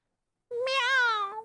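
A person imitates a cat's meow, one drawn-out whining mew lasting about a second, close and clear.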